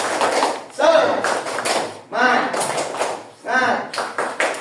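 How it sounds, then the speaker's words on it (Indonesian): An elementary school class does a rhythmic spirit clap, with bursts of claps and taps in a patterned beat, pausing between rounds while children chant along with the rhythm. "Tepuk semangat."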